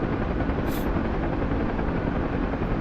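Helicopter in the DCS World flight game, a loud, dense, steady rotor and engine roar filling the whole stretch without a break.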